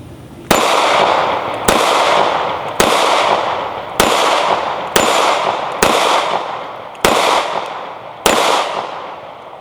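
A Hi-Point C9 pistol fires eight sharp, loud shots at a steady pace about one second apart, each crack followed by a short decaying ring, with no talking.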